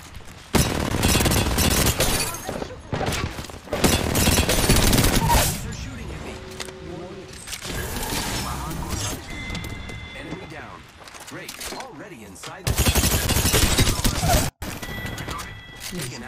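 Video game battle royale gunfire, with loud rapid automatic bursts in several long volleys separated by quieter gaps while players talk over the action.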